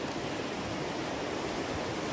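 A mountain stream in the Tatra valleys near Kasprowy Wierch flows steadily, a constant broadband rush of running water with no pauses, moderately loud and heard alone.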